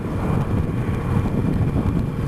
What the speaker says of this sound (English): I could get used to this wind in my face, you know.